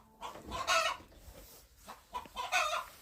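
A hen clucks in short bursts, a couple of throaty calls with quiet gaps between, close and fairly soft.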